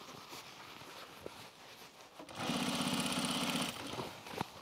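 A sewing machine stitches around the seam of a pair of pants, a quiet room and a faint tap giving way to a steady, fast mechanical whir for about a second before it stops.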